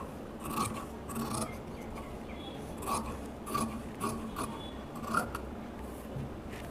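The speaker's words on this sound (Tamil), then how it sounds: "இப்போது எக்ஸ்ட்ரான கிளாத்தை நம்ம கட் பண்ணிடலாம்." Scissors cut away extra blouse cloth in a string of faint, rhythmic snips and rasping rubs, spaced roughly every second over a soft steady background.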